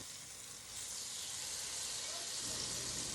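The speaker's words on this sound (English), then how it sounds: "I'm going to go ahead and sear off the beef tips" Beef steak tips sear in a Dutch oven with butter and olive oil, a steady close sizzle with broadband crackle that swells slightly after the first moment and holds loud to the end.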